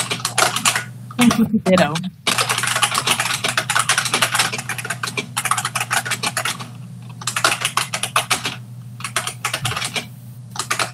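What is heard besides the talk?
someone typing on a computer keyboard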